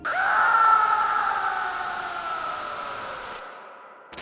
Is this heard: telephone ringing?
no